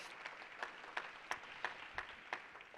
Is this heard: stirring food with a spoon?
no